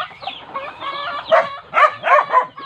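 Chickens clucking up close, a burst of loud throaty calls and rising squawks in quick succession.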